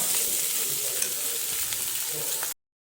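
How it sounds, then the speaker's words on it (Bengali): Ajwain (carom seeds) frying in oil for a potato and tomato fish curry, a steady close sizzle with no talk that cuts to silence near the end. "জোৱানিখিনি এনেকৈ ধুনীয়াকৈ ভাজো"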